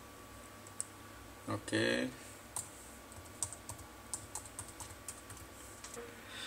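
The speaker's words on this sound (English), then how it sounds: "I will type the password." Laptop keyboard keys tapped while entering a Wi-Fi password, a sparse run of light, close clicks spread across a few seconds, with a brief spoken word and a louder handling noise near the start.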